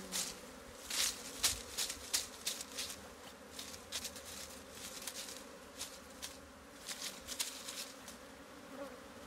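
Honeybees buzz steadily through an Apis honey harvest, a continuous close hum of many insects with occasional louder passes near the listener and no talking.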